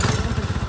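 A freshly repaired 110cc four-wheeler ATV engine runs nearby, a short burst of rapid, throbbing putter with a clattery edge, loud and alone.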